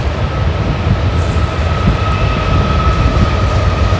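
A train rolls by on a CSX double-track line in the woods near Conneaut, a steady, loud rumble of wheels and cars holding for the full stretch with a faint tonal whine above it.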